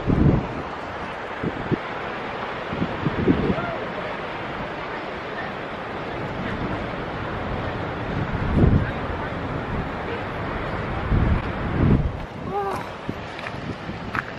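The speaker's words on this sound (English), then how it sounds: "The wind still hits you full on, but it's a brilliant place to watch" Strong winter storm wind roars at Porth Towan on the Cornish coast, constant heavy gusts buffeting the microphone over the rush of surf and waves, with occasional louder bursts throughout.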